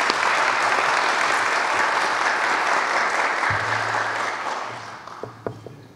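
An audience at a design-day event applauds steadily for a presenter. The dense, loud clapping runs for several seconds, then thins and fades, with a few last claps and faint voices at the end.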